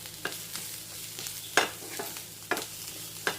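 Onions and curry leaves frying in a pan for a masala curry, a soft steady sizzle broken by sharp scrapes and clinks of stirring, quiet and close.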